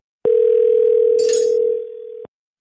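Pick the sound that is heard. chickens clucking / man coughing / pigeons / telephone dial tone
telephone dial tone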